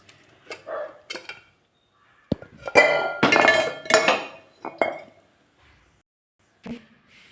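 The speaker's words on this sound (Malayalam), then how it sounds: "കുക്കറിലിരിക്കുന്ന മുതിരയും കൂടെ തട്ടിക്കൊടുക്കാം" Cooked horse gram tipped from a pressure cooker into a pan, with a run of metallic clinks and clattering scrapes of pot against pan, bursts of clatter separated by short pauses, close and fairly loud.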